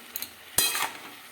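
Cabbage curry stirred in a pan after a little water goes in: a couple of light clinks, then one sharp scrape and a brief hiss of sizzling, close and moderately quiet.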